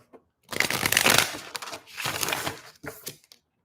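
Tarot cards riffle-shuffled up close, two long bursts of rapid papery flicking followed by a shorter shuffle, fairly loud against a quiet room.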